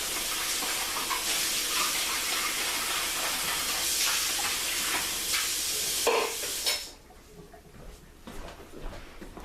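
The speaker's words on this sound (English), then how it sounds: "when I have egg stuff, I rinse it out right away." Running tap water pours steadily into a bowl as egg mixture is rinsed out in a kitchen, a close, continuous splashing hiss that cuts off sharply near the end, leaving quiet room sound.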